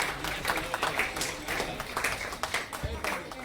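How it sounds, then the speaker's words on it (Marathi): Guests at an engagement ceremony in a hotel banquet hall applaud the couple with steady, dense clapping from many hands, close and loud, with voices mixed in. "सगळ्यांनी एकत्र टाळ्या वाजवायच्या आहेत."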